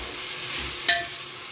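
Green chillies and tomato frying in a pan, a soft, steady sizzle with a single short scrape or clink of a utensil partway through.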